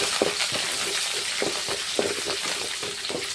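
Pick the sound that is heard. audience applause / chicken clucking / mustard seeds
mustard seeds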